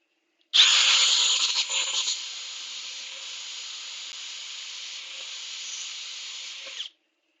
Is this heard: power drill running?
yes